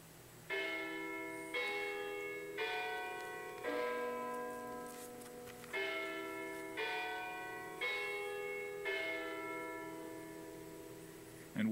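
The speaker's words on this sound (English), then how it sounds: "And with a bell, no less." Church bell struck at a Presbyterian church, seven evenly spaced rich metallic strikes about every 1.5 seconds, each ringing out and decaying into the next, with no voices.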